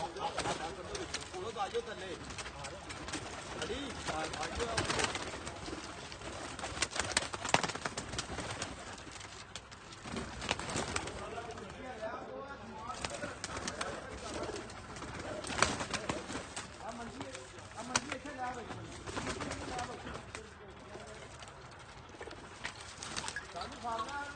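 Rooftop flock of pigeons cooing at a rooftop flying-pigeon show, a busy, noisy scene with calls scattered throughout and people talking over them much of the time.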